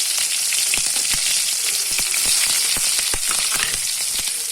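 Onions sizzle and crackle steadily in hot oil with garlic in a pan, a close, continuous frying hiss dotted with sharp pops, for a Tulu-style elephant foot yam sukka.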